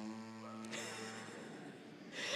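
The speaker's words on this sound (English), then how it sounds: "he's gonna buzz his lips" A French horn player buzzes his lips with no instrument, a steady pitched buzz with harmonics that breaks into a rougher, noisier flutter, fairly close and alone.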